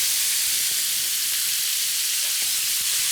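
Onions frying in a pan for a weeknight meatball dish, giving a steady, even sizzle with a soft hiss throughout and no voices.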